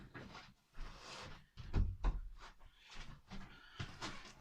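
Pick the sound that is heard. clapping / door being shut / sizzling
door being shut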